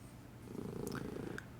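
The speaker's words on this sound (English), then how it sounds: "I can hear the cat purring and it's great" A cat purrs steadily in a soft, rhythmic rumble, quiet and close, with a couple of faint clicks over it and no talking.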